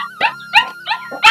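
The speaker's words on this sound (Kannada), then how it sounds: "ದೊಡ್ಡ ನಾಯಿಗಳಿದ್ದಾವೆ, 2ಕ್ಕೆ 2 ಒಡ್ಡಿ ಇವು." Big dogs in a farm kennel give four close, loud, yelping barks with a howling edge, spaced in quick succession.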